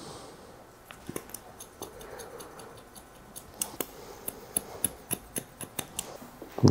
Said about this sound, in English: I'm just going to slide cut into this just so there's a bit of texture falling in to the blend